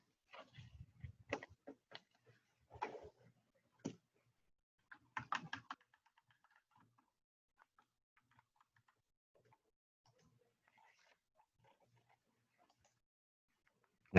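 Scattered bursts of keystrokes on a computer keyboard during a Node.js coding workshop, clustered in the first few seconds and then thinning to faint, sparse clicks in a quiet room.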